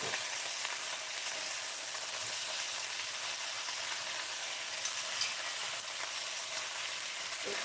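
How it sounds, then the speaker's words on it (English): Onions, garlic, pepper and tomato sautéing in oil on a high flame make a steady, dense sizzle that holds evenly for several seconds, close and bright, with no talking. "Just let the veggies get to the bottom to saute up in that oil"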